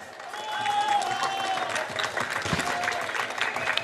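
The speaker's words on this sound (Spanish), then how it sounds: "el aplauso para el comité" Applause from a crowd at a village fiesta in San Francisco, near Coecillo, Silao, Guanajuato, honouring the festival committee. Steady, dense clapping fills the whole stretch with a whistle-like tone over it, close and fairly loud.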